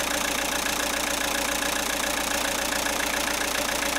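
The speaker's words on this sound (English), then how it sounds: "Start the engine." A car engine idling steadily during a mass air flow sensor check, a constant mid-pitched hum with broad hiss, close and unchanging, no voices.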